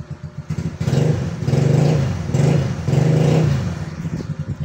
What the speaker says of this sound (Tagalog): bumalik na po sa dating tunog yung tambutso ni Papa Bits